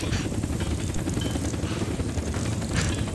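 Helicopter in the military shooter game Squad, a steady broadband rotor and turbine roar that fills the whole clip at constant loudness with no talk over it.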